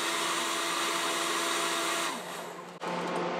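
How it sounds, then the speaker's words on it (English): A hair dryer fitted with an extension nozzle blows with a steady whirring roar close by on a guitar label, dipping briefly as it is moved, then resuming at full strength. "So I'm going to make a longer extension for this hairdryer so I can get right in tight to that label."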